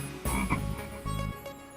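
A frog croaks twice in a comedy sketch, two loud, close, rasping bursts separated by a short pause.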